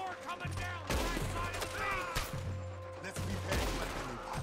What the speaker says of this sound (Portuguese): Os caras estão atirando.